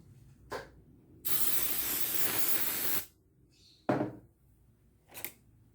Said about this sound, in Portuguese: E vou aplicar também esse spray na fita.